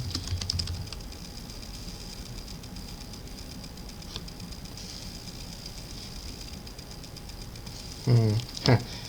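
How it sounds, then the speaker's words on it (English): Quick, irregular clicks of a computer keyboard being typed on, soft and close, over a steady background hum, with a short burst of speech near the end. "Hold on, I gotta type it in"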